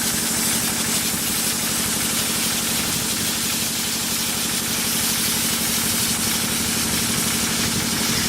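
Lister diesel engine running steadily to drain a sprinkler system, a constant low chugging drone with rapid regular knocking pulses, loud and unbroken, no voices.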